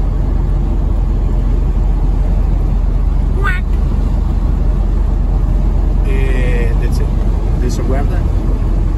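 A UAZ off-road vehicle, rusty and climbing a gentle uphill slope, gives a loud, constant low engine rumble, with a person talking over it.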